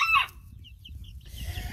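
Farmyard chickens with a rooster, one sharp loud squawk-like cluck at the start followed by fainter scattered clucks over a low background rumble, no talk.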